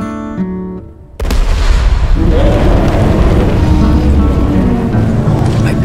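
Gunfire in the Deep Rock Galactic video game, where a brief musical lead-in gives way to a loud, sustained wall of booming shots and blasts that keeps going to the end.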